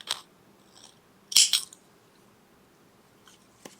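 Crochet yarn is snipped with scissors at close range, a couple of quick sharp clicks near the middle followed by faint small handling sounds in a quiet room.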